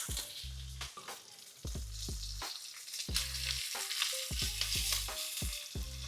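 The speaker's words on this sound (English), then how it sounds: "I'll have high heat, I'll put the butter, I'll keep basting" British Wagyu steak sears in butter over high heat, a loud steady sizzle with crackling spatters and repeated scraping and tapping of a utensil as the meat is basted.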